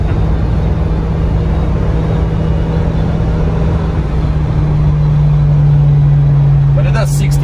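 A 1990 Subaru Sambar Dias2 supercharged all-wheel-drive kei van with a CVT accelerating, its engine drone holding a steady low hum inside the cabin throughout, rising slightly in loudness toward the end.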